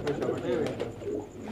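Pigeons coo softly from a collection of Qasid and colourful fancy pigeons, low murmuring calls running continuously under a man's speech close by.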